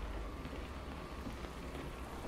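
Rain falls on the windshield of a KAMAZ-65225 truck, a dense, continuous patter of drops with a steady hiss, close and even throughout, with no voices.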